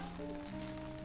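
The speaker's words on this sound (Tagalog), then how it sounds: "So, napakaulan po, napakalakas." Heavy rain falls in Baguio, a dense continuous hiss of drops on surfaces with a faint steady hum beneath, brief and unbroken.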